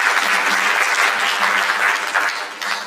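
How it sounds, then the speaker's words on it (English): A mental wellness and counselling conference audience claps steadily and densely for nearly three seconds, the applause close and full before easing slightly at the end. "another round of applause for you"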